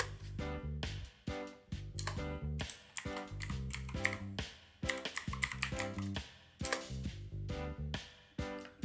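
Rapid, uneven clacking of computer keys, close and fairly loud, in quick bursts with brief pauses between them.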